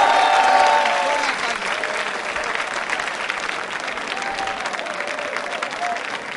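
An audience at a quiz show in a school setting applauds loudly, a thick burst of clapping that swells at the start and then settles into a steady, slightly softer roar as voices mingle in.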